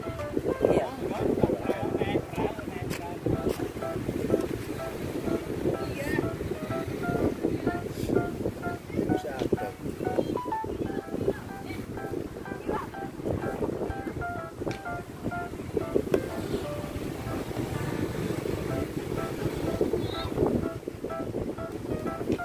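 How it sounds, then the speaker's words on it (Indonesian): Strong wind gusts across the beach at Kenjeran, a steady broadband rush buffeting the microphone for the whole stretch, while people talk underneath. "ini anginnya luar biasa"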